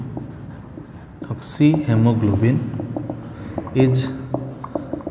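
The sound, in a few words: writing on a board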